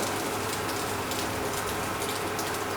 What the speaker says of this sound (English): We're first gonna add in 1 cup of water.